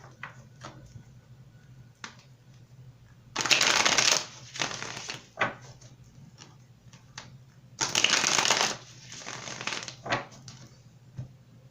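A tarot deck is shuffled by hand in two brisk, crisp riffling bursts, with softer card taps and flicks in between, close and fairly quiet in a still room.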